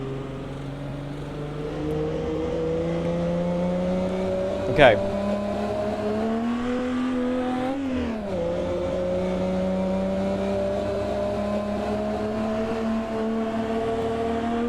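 Race car engine in the Assetto Corsa racing game at Brooklands Circuit, a steady loud drone with rising pitch as it accelerates, dipping briefly around a gear change, with a short word spoken early on.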